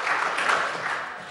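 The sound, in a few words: applause in parliament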